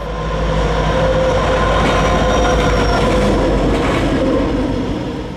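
A pair of helper locomotives, returning after assisting a trash train downhill, climb back up Track 1 on a mountain grade with a loud, steady diesel roar and rolling wheel noise, close and continuous throughout.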